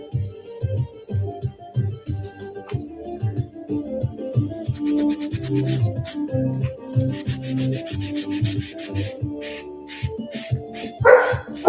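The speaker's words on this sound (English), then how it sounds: "She's so barky." A dog barks repeatedly in rapid, loud bursts close by, almost continuous for the whole stretch, with a brief higher yip near the end.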